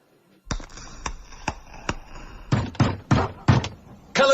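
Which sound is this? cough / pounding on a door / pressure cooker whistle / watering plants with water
pounding on a door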